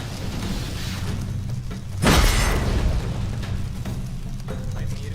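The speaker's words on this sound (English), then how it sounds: "Throw a bomb." A bomb blast in The Witcher 3: Wild Hunt erupts as a single loud broadband boom, then fades into a rumbling tail over a low, steady game ambience.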